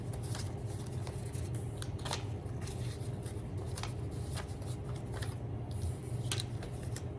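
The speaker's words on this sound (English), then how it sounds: "Shuffle up." Playing cards being shuffled by hand, a run of quick soft riffles and snaps over a steady low hum, close by and fairly quiet with no talking.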